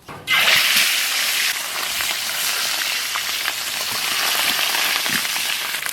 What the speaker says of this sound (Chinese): 腌好的黑鱼，锅里倒点油煎一下。